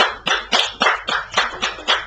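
Japanese church congregation at a Sunday service claps together in a slow, even rhythm, about eight sharp, clear beats close by.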